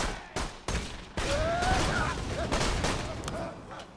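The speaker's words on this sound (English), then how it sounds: "Was he shooting at me and then just stopped?" Gunfire in the video game Borderlands 2: sharp, separate shots early on, then a rapid run of overlapping fire with whizzing projectiles, at moderate level.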